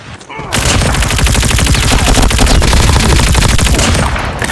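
Dense, rapid automatic gunfire from a Call of Duty match rattles loud and continuous for about four seconds, starting abruptly after a brief quiet opening.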